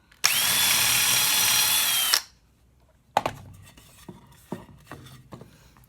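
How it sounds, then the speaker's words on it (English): A power drill drills a hole through a surface and whines loudly and steadily for about two seconds, then stops abruptly. Short clicks and handling knocks follow as the work is set aside. "so I'm going to drill my hole."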